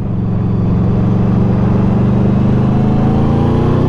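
Modified 200 hp Yamaha V-Max motorcycle accelerating hard, a loud, close, deep engine roar whose pitch climbs steadily as it pulls through the revs.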